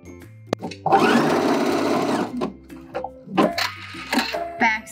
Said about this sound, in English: we're ready to sew all three layers together in a circle